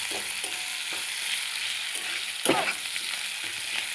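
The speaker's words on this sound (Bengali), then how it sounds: "এরপর দিয়ে দিলাম পেঁয়াজ কুচি এবং এটিকে ভালো করে ভেজে নেব।" Chopped onions and garlic fry in a pan for a duck egg curry, giving a steady close sizzle broken by soft stirring scrapes, with one louder stir near the middle.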